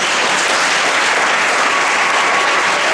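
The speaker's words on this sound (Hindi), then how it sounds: "छोटी सी बच्ची के लिए सभी लोग तालियां बजाएं" An audience at a success party applauds a little girl after her fast song, a dense, loud and steady wash of many hands clapping that fills the whole stretch without a break.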